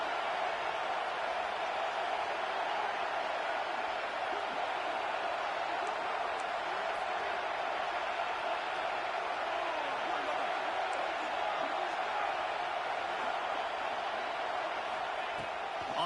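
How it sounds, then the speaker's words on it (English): Steady, distant stadium crowd roar at a college football game, Ohio State vs LSU, in a video game, a constant low wash of noise with no distinct cheers rising out of it. "Man, this crowd really affecting the football game."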